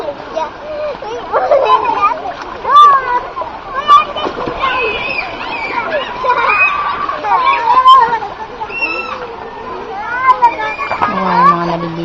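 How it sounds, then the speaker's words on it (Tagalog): People bathing in a clear river at a dam in Wawa, Montalban, Rizal, with steady water splashing and sloshing throughout, mixed with lively children's shouts and chatter close by. "Ayan, mga naliligo."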